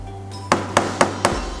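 A kitchen knife strikes a cutting board four times in a quick, even rhythm, each chop a sharp, loud, close knock while preparing ingredients for bubur tinutuan, a Manadonese rice porridge.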